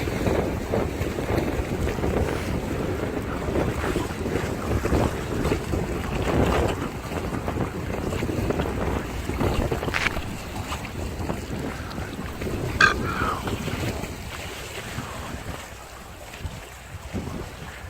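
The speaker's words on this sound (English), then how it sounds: "Look how choppy that water is." Choppy water slaps and washes steadily against a boat at a lakeside or seaside spot in autumn, with gusty wind buffeting the microphone throughout, loud and continuous with no talking.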